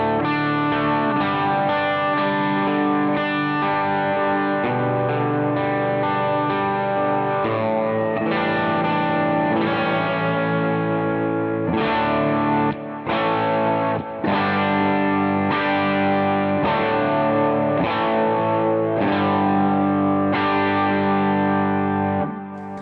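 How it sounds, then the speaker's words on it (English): An electric guitar plays a clean tone with light grit and effects, steady chords ringing continuously and loud, with brief gaps between strums and no talking. "that's kind of that sound. It's the clean grit."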